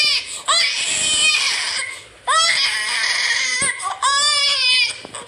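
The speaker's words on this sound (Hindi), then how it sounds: "ये बच्चे की रोने की आवाज कहाँ से आ रही है?" A baby cries in three loud, close wailing bursts at a doorstep, with brief gaps between them and no one talking.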